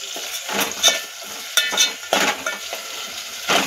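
Lentils and peas being sautéed in a pan for Nilanga rice, a light sizzle broken by repeated clinks and scrapes of a spoon against the metal.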